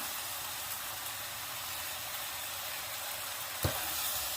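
Marinated beef stir-frying with pepper in a hot pan gives a constant loud sizzle and hiss, with one sharp click near the end.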